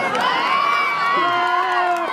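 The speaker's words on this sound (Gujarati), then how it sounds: "અને આ બાઇક વાળા માટે જોરદાર તાળી થઈ જાય" A crowd in Barwala shouts and cheers for a bike rider, excited overlapping voices and whoops rising in a short, loud burst close by.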